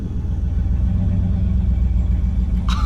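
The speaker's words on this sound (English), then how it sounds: "Let's open the cutout." A turbocharged Chevrolet Avalanche fitted with a Maxpeedingrods turbo kit rumbles through its exhaust with the cutout open. The heavy, steady low drone fills the whole stretch, and a brief higher whistle rises near the end.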